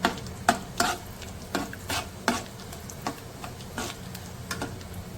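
Cumin, mustard seeds and four dried red chillies frying in oil in a kadhai, a soft steady sizzle broken by a series of sharp irregular spoon taps and stirring scrapes, close up with no voices.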